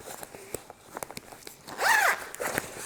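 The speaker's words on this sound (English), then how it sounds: "So you can zip out the mesh liner." A zipper being drawn open on a motorcycle jacket's removable mesh liner, a short raspy zip close by after light handling clicks and rustles.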